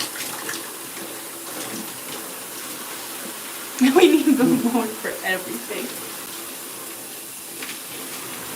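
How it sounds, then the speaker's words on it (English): Shower running in a bathroom during a wash-and-go hair routine, a steady hiss of spray with a brief louder splashing burst midway, while someone talks over it. "I'm about to keep the shower on for this last portion."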